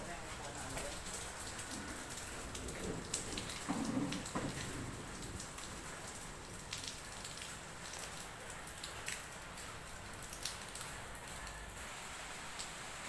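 Steady rain falls outside a house, a continuous soft hiss of drops on surfaces at moderate distance, with faint speech and indoor movement mixed in.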